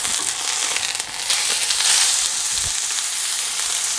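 Steak sizzles loudly in a hot pan, a dense and steady hiss with crackles that keeps going throughout, with a slight surge partway through.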